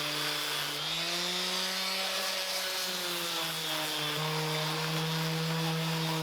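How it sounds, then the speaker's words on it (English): A power sander with 60-grit paper works over the wooden body of a DIY bass guitar kit, giving a steady, close motor whine whose pitch drifts slightly as pressure changes, with no talking. "So now I'm just going to get at it with some 60 grit."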